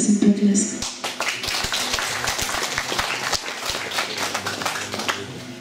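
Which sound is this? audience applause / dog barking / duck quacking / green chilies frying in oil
audience applause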